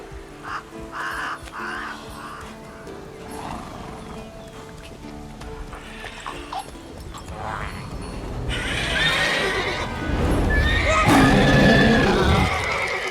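Roach, the horse in the video game The Witcher 3, whinnies and trots, with hoof clip-clop and game music building louder toward the end.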